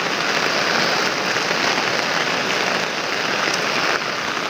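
Heavy typhoon rain pours steadily near a riverside house, a dense, loud, unbroken hiss of drops on surfaces with no voices.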